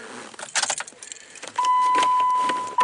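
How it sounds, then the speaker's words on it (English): Keys jangle close by in short bursts as they go into the ignition of a 2007 Jeep Wrangler JK, followed by a steady electronic chime tone once the key is in. "I'm going to put the key in"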